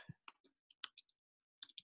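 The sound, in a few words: someone typing on a computer keyboard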